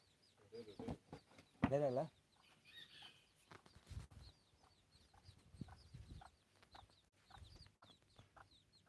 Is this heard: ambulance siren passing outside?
no